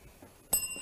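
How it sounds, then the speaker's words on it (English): A single bright bell strike closes a school quiz match, a sharp ring rising out of near silence and lingering briefly. "That bell means it's the end of the final challenge and the end of the match."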